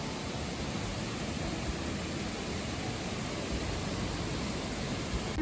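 Skradinska waterfall in Krka National Park, Croatia, gives a steady, dense roar of falling water. It is continuous and broadband, heard up close with no voices.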